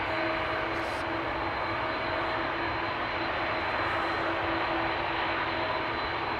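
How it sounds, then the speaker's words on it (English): Airbus A330 jet engines roar at Amsterdam Schiphol Airport in a loud, steady broadband rumble with a faint high whine, continuous and close throughout. "The volume, the audio that you're hearing is predominantly the engines of the A330."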